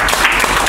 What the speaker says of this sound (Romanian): Așa că aplauze